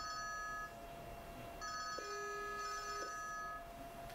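A test call rings through to a 2N Helios Verso SIP intercom: a clean electronic ringtone sounds in two bursts with a short gap between them, with a lower beep tone partway through, alone and fairly quiet.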